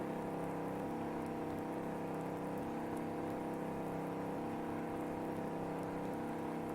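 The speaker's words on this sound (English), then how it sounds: "Rainy day like this, might as well put a hammock in the front seat." Steady rain falls in Farming Simulator 19, a constant even patter with a low engine hum beneath it and no voices.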